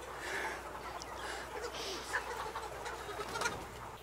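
Broiler chickens packed into a crowded poultry house, a dense continuous chorus of clucking and chirping close by, with occasional louder calls standing out from the steady flock noise.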